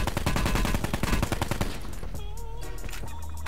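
Automatic gunfire in the video game Call of Duty Blackout, a rapid burst of close, loud shots for about a second and a half, then fading game ambience with faint tones.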